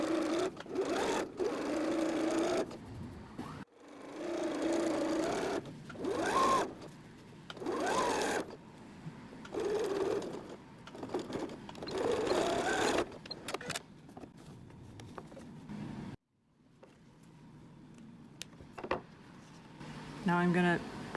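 A home sewing machine stitches twill tape onto the edge of a tea towel apron, its motor whirring in repeated bursts of a few seconds separated by short pauses, close and steady, with a voice talking between runs.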